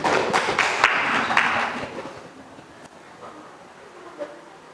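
Brief burst of classroom applause from students, a cluster of claps at the start that fades quickly into quiet room noise with a few scattered taps.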